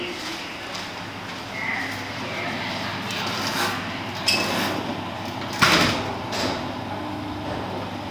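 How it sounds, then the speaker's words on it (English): The big lift doors at Bank tube station slide with a steady rumbling hiss over busy station ambience, with a few sharp clunks and knocks along the way. "This is the big lift."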